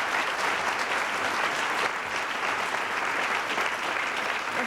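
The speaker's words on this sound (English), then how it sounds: "Senator Dodd's friends insist upon applauding at length after every answer" A debate audience breaks into long, dense applause after a candidate's answer, a steady roar of many clapping hands with no talk over it.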